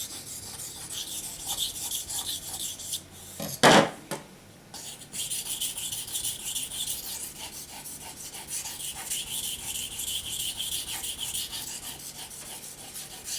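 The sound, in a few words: sharpening a hunting knife on a 1000-grit waterstone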